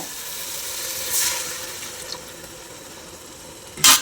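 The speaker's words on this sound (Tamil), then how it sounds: "தேங்காய் பால் ஊற்றிடலாம் இப்போ" Coconut milk splashes briefly into a pot, a short pour followed by quieter bubbling and a second brief splash at the end.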